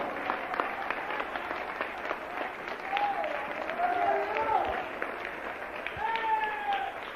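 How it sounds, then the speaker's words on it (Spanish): Sustained applause from a large church congregation, steady and fairly loud, with voices calling out over the clapping. "Denle un aplauso a Cristo, que Él se lo merece."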